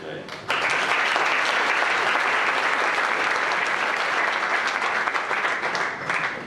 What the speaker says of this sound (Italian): Lui applaude in anticipo,